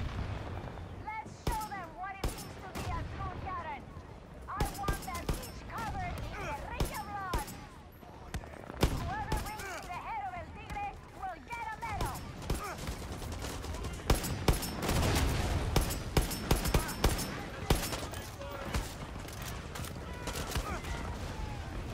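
Mortar blasts and gunfire from the video game Far Cry 6 boom and crackle in dense bursts of shots and heavy explosions, loud throughout, with a player's voice and game voices talking over the fighting.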